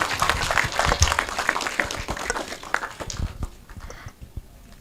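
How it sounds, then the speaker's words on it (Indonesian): A seated audience at a film discussion applauds, with scattered claps building into brief, uneven applause that thins out and dies away toward the end. "Mungkin bisa tepuk tangan dulu."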